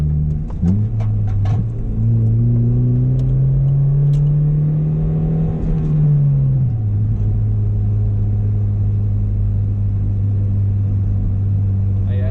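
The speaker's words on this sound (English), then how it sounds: "I'm lugging the fuck out of this motor" A manual-transmission car engine lugs at low revs in too high a gear, a deep steady drone that rises briefly then settles back into a low, strained rumble, heard close up from inside the cabin.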